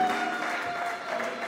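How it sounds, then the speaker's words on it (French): An audience at a Congolese family celebration applauds in a steady, dense wash of clapping that holds at even, moderate loudness for the whole moment, with no distinct individual claps standing out. "sous vos applaudissements bien nourris"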